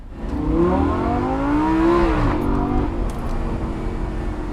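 A sports car engine revs up with a rising then falling whine, loud and steady, its low rumble continuing afterward.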